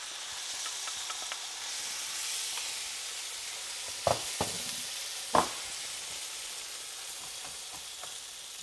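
Tomatoes frying in a pan for Amatriciana sauce after wine has cooked off, a steady soft sizzle throughout with a few sharp utensil clicks and taps near the middle, no talking.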